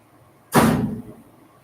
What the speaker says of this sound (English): I'm sorry about the banging noise.